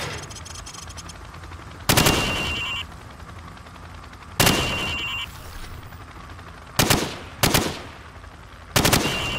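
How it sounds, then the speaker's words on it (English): Video game gunfire hits targets while firing from the hip. Several loud, sharp bursts and single shots ring out at irregular intervals, each trailing off into a short echo, with no voices. "Now, shoot at the targets while firing from the hip."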